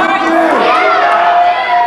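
A loud wrestling-show crowd cheers and shouts steadily throughout, a dense roar of many voices with higher yells rising out of it.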